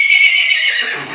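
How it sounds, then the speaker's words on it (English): A donkey brays loudly and close by in one sustained, strained call that fades toward the end, with no talk over it. "The donkey, in case you couldn't tell."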